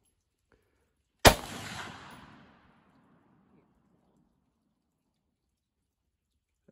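A Ruger Mini-14 Ranch rifle fires one 5.56x45 NATO round outdoors, a single sharp, loud crack followed by a rolling echo that fades over about a second, then quiet.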